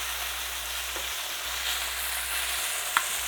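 Fish fillets, a thin one and a thicker one, frying in hot oil in a pan give a steady, dense sizzle with no talking and a single small pop near the end.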